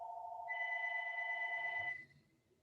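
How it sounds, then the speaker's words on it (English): A phone rings during a quiet hatha yoga flow class: a steady electronic ring that shifts to a higher pitch partway through, clear but not loud, then cuts off into near silence. "Sorry, my phone is ringing."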